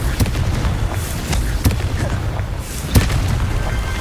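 Confringo fire-spell blasts go off in the Hogwarts Legacy wizarding game, several sharp, booming explosions spaced a second or more apart over a low rumbling background, close and fairly loud.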